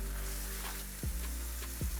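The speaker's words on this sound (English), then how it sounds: "Once the oil is hot, we're going to dip the tortillas, and we're going to start frying them." Hot oil sizzles steadily up close as tortillas fry, with a couple of soft clunks and a brief bubbling surge as a tortilla is moved in the pan.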